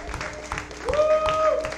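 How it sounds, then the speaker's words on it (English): Audience clapping at a talent show quarter-final: a short, scattered patter of applause, with steady tonal whistles and voices mixed in over the last second. "Thanks, man, for the little clap up."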